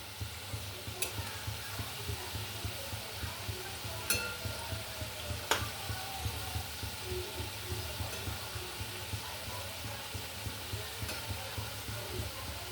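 Fish roe fritters (machher dimer bora) fry steadily in hot oil, a constant close sizzle and bubbling with a few sharp clinks partway through; no one speaks.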